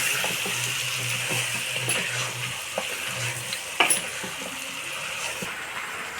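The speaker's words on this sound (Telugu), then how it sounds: "బాగా కలుపుకుందాం ఒకసారి." Country chicken being stirred in a robot cooker: a metal spoon scrapes and clinks against the pot over a steady low sizzle, with one sharper clink near the middle.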